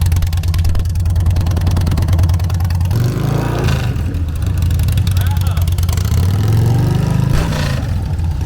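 A Harley-Davidson Night Train motorcycle fitted with new exhaust pipes idles with a deep, loping rumble, then is revved twice in quick swells, loud and close, with people talking over it.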